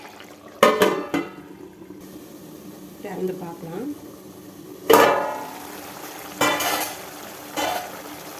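A spatula scrapes and clinks in a pan of drumstick poriyal in a few sharp bursts, with quieter sizzling between them, while a person talks throughout.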